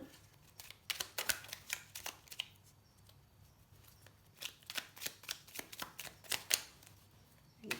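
Toltec agreements oracle cards shuffled and drawn by hand, quick riffling flutters in short bursts with crisp snaps and pauses between them, close and fairly quiet, with no speech.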